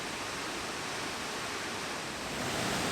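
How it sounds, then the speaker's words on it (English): Greeter Falls waterfall roars as a steady, full hiss of rushing water, close and constant throughout with no voices. "Steep stairs, great waterfall, really great waterfall."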